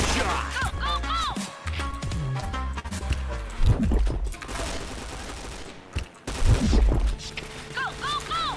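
Bursts of rapid gunfire in a shooter video game mix with busy game sound effects and rising chirping tones, with loud, uneven peaks and a brief dropout partway through.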